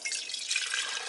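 Gasoline blended with 10% ethanol poured into a glass jar, a short steady trickling splash of liquid heard close up.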